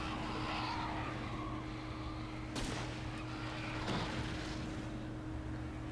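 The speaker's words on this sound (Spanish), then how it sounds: "acá tengo que tirarle con unas bengalas, como siempre limitadas, para poder destruir al tornado." Flare gun shots fired at a tornado in the Alan Wake video game. Two sharp bursts cut through a loud, steady roar of wind and rumble, with no talk.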